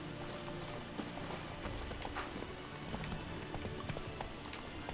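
Roach, the horse in The Witcher 3: Wild Hunt, clip-clops along in a steady running gait, hoofbeats close and continuous over a faint game backdrop, with a brief whinny-like hint.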